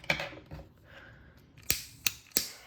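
Scissors snip through excess crochet yarn on a small Christmas tree piece, a few crisp, close clicks and cuts, two soft ones first then three sharper snips in quick succession, with no talk.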